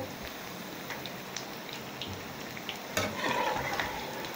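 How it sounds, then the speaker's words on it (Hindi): Potato and onion pakoras deep-frying in oil in a kadhai give a steady, close crackling sizzle, rain-like and continuous, rising a little louder near the end. "अब मुस्तकिल इसको हम पलटते रहेंगे ताकि सब तरफ से इवनली फ्राई हो"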